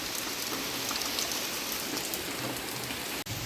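Steady, close rain patters and hisses continuously on a surface, with no voices, along the Narmada river.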